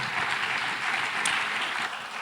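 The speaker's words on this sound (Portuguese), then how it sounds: "Uma salva de palmas bem forte." Strong, dense audience applause at a church talk-show event, a steady wash of many hands clapping at full volume throughout with no talk over it.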